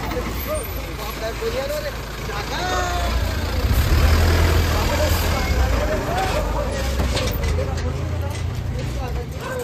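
A band's vehicle, a truck or bus, pulls up and idles nearby: a loud low engine rumble that swells around the middle and keeps running steadily, with voices and chatter underneath.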